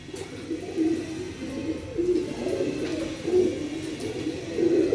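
Several pigeons coo close by in low, throaty phrases that repeat roughly every second over five seconds, with no voices.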